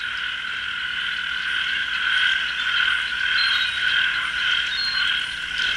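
A dense chorus of tree frogs gathered in reeds to spawn in a Central American rainforest, calling continuously, high-pitched trilling croaks overlapping steadily with no voices.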